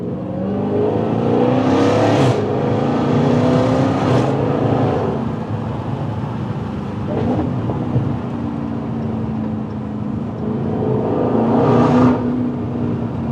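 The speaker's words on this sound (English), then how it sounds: "First pull with the new exhaust." Loud, close pulls from a 2022 Dodge Charger Hellcat, 717 hp V8 with a MagnaFlow XMOD cat-back exhaust, its throaty drone swelling in three or four rising revs over a constant rumble.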